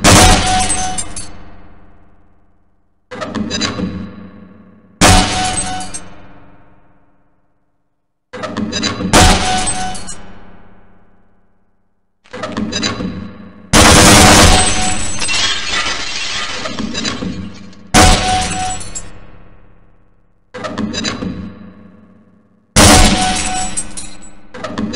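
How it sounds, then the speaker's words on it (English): In the Half-Life video game, a grenade launcher fires and targets burst apart, giving about eight sharp bangs with shattering crashes. Each one rings out and decays into silence before the next, loud and close. "To fire your grenade launcher, use your alternate fire button. Certain targets will break only when hit by grenades."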